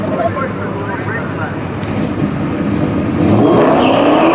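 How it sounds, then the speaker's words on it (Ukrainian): A Dodge Challenger SRT in the video game GTA 5 gives a continuous engine roar mixed with wind-like rushing noise, rising louder near the end as it accelerates, with someone talking over it. "А наступна машина з мого автопарку буде американський звір до Challenger SRT."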